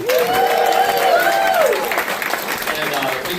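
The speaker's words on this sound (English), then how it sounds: "Let's give another round of applause for Kate, Craven, Oscar American" Audience applause for storytellers at a live storytelling show, sustained crowd clapping throughout with a voice speaking over it early on, then a dense wash of hands continuing.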